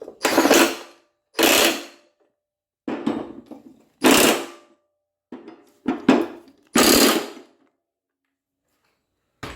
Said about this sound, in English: I'm using an impact.